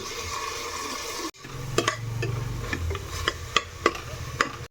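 A vegetable pulao spice paste hits a hot pan with a sudden burst of sizzling, followed by stirring: a steady fry hiss punctuated by several sharp spatula scrapes and clacks against the pan.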